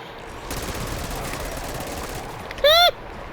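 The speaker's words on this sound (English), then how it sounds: "Okay, minigun." Rapid, sustained automatic fire from a minigun in the video game Black Ops 6 rattles for under two seconds at moderate loudness, followed by a short bright electronic tone.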